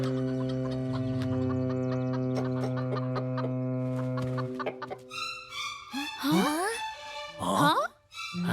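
A cartoon rooster clucks and squawks in a rapid, agitated run of calls near the end, following a sustained musical tone and mixed with other animated sound effects.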